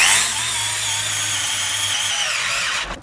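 A power drill runs continuously for about three seconds, whirring at a steady high pitch as it tightens a screw on a Magpul MSA-QD sling attachment, then spins down abruptly at the end.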